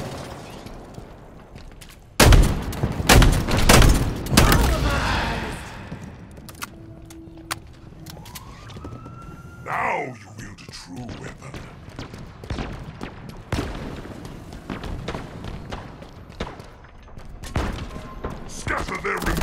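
Bursts of Halo Infinite gunfire and booming explosions in a Team Deathmatch Fiesta match come in clusters, mixed with thuds, whooshes and a voice speaking over the action.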